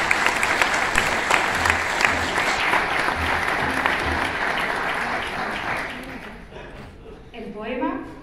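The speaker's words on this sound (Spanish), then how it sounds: "para la cual os pido un aplauso" Sustained applause from an audience at a Valentine's celebration in Torrejón, dense clapping that fades out near the end as a voice begins talking.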